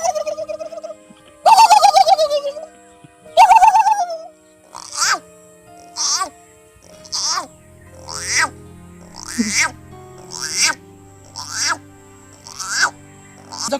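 A person imitates a turkey's call, starting with two longer warbling cries and then a rapid series of about ten short, sharp gobbling bursts, loud and close.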